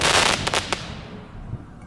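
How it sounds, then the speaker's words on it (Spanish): A fireworks sound effect for a Neewer 190 Bluetooth RGB LED light plays a quick crackling volley of pops and bangs that thins into a fading fizzle and a few last faint cracks, with no talking. "También tenemos un efecto de fuegos artificiales."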